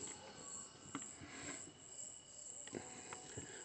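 A cricket chirps faintly near a workbench during an electrical contactor repair, thin high trills repeating amid soft clicks and background hiss, with no speech.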